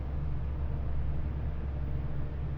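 A loud, steady low engine rumble on a cruise ship, the MSC Seaside, heard from a cabin balcony, droning continuously without a break and with no voices over it.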